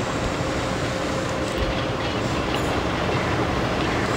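A steady, loud rumbling whir comes from a ropeway cable car cabin descending at Saptashrungi Gad near Nashik. It stays continuous with no pauses.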